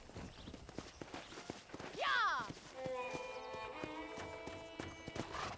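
Horse hooves clopping in Red Dead Redemption, a short run of steady footfalls with a whinny-like cry in the middle, heard under a man's speech and game music.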